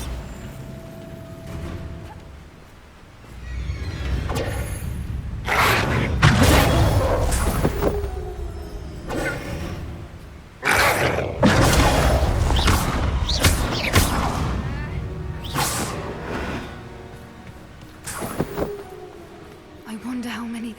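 A Bombarda blasting spell goes off in Hogwarts Legacy, with sharp booming impacts and whooshes breaking through game music and spoken dialogue.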